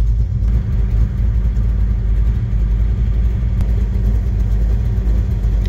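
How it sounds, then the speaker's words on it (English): Cars leave a car show with a loud, steady low engine rumble close by, a continuous drone from passing vehicles, with no talking. "So I'm trying to get video of the cars leaving."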